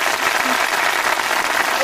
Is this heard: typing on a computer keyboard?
no